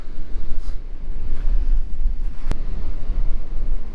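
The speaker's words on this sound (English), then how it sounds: "the waves are just right there crashing in just on the other side of the rocks here" Ocean surf breaking against rocks on the Lost Coast, a rough low rumble with wind buffeting the microphone, rising and falling in surges, and one sharp click partway through.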